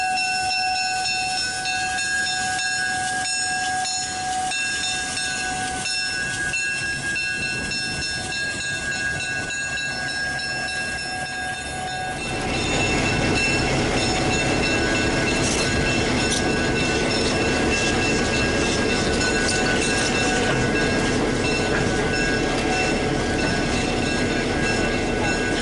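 Illinois Terminal 1605, a diesel locomotive, maneuvers in a rail yard, starting with faint wheel squeal and tonal hum, then rising into louder broadband rumble and clanking partway through.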